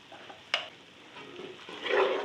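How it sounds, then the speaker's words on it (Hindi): Masala with tomato, dried coriander and crushed red chilli frying in a pan, a low sizzle with a sharp clack of the spoon early on and scraping stirs growing louder toward the end. "मसाला अच्छी तरह भून रहा है"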